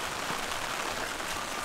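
Light rain falls steadily on a village garden plot, a soft, even hiss with no voices.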